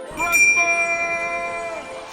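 A ringing bell from a reindeer sleigh harness, held high and shaken, chimes out with sustained bright overtones that linger and slowly decay, loud and close with no talking.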